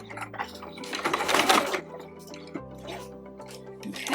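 A sewing machine backstitches at the end of a seam on a scrappy zippered pouch, giving short bursts of rapid mechanical stitching with brief pauses and clicks, close and moderately loud.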